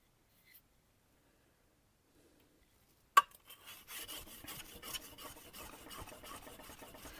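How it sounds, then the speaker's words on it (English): Chisel blade being honed on a 1000 grit whetstone, a steady rasping scrape of repeated strokes that starts abruptly after a quiet stretch and continues close and moderately loud. "Finish up on the 1000, get some shine onto it"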